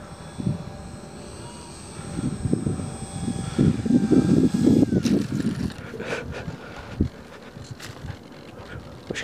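A Dynam Beaver RC model plane with flaps down flies a touch and go, its small electric motor whining with shifting pitch and then swelling to a louder buzz at mid-distance before easing off again.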